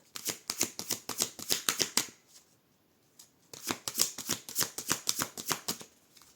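A deck of tarot cards riffled and shuffled by hand, two runs of rapid crisp flicks close up separated by a short pause, with no talking.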